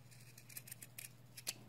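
Scissors snipping through fabric at the corner of a sewn seam on cloth wipes, a run of short, crisp cuts in an irregular rhythm, close and fairly quiet, with no talking.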